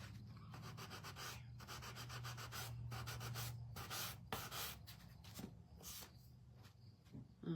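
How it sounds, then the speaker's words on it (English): Small handheld sander lightly working a wooden frame for a pumpkin and crow craft, giving a soft, steady scratchy rubbing in short strokes with brief pauses, fairly quiet and close, no talking. "I'm gonna get my other little sander and I'm gonna lightly, just lightly"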